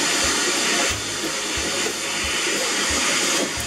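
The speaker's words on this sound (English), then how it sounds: "we've got the sound effects of the water playing in the waterfall" Waterfall sound effect from a video clip, a continuous loud broadband rush of falling water, with faint low thumps recurring under the hiss.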